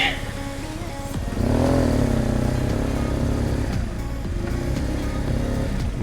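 A BMW R1100S motorcycle engine revs up and holds a loud, steady roar, heard close and continuous.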